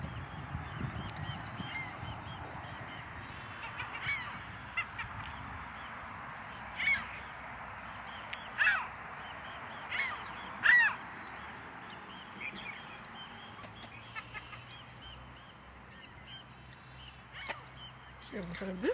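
Birds honk and caw in scattered, fairly faint calls over a low outdoor background, with a few louder bursts spaced several seconds apart and a person speaking quietly at times.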